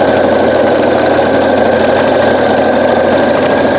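A sewing machine stitching a serpentine quilting pattern, a loud, close, steady mechanical hum with a fast even needle rhythm running unbroken throughout, no voices.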